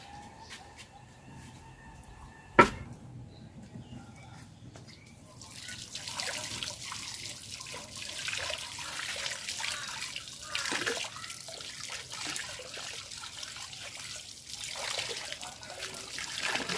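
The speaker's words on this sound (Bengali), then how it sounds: "মাছটা খুব সুন্দর করে পরিষ্কার করে নিছি তো এখন একটু ধুইয়া নিব" Water runs and trickles steadily as a freshly cleaned pond fish is rinsed, close and fairly quiet, after a single sharp knock and a stretch of low, near-silent background.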